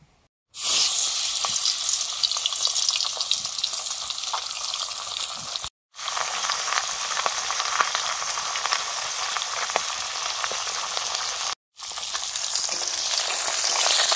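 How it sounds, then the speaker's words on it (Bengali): Pabda fish frying in mustard oil in a pan, a loud steady sizzle with crackling that runs almost continuously, broken by two brief silent gaps. "সর্ষের তেল দিয়ে দিলাম, পাবদা মাছগুলো ভেজে নেব।"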